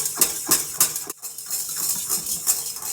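Stand mixer whipping marshmallow frosting of egg whites and vanilla at full speed, a steady loud whir with rhythmic clattering pulses from the whisk against the bowl, one brief dropout partway through.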